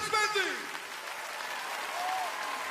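A concert audience applauds the singer steadily, a broad wash of clapping that swells briefly then holds, with a singing voice fading at the start.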